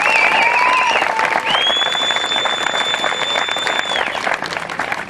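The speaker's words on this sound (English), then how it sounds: "Let's give him a round of applause." A county fair crowd applauds steadily in a dense wash of clapping during a fair dedication, with a whistling tone running over part of it.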